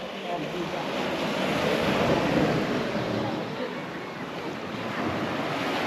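Waves wash onto a beach below rocky cliffs in Portugal, making a loud continuous surf roar that swells and eases. Gusty wind buffets the microphone throughout.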